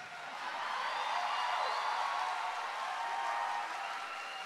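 A church congregation applauds during a Pentecostal sermon, a soft, even patter of clapping that swells and holds for several seconds before easing slightly.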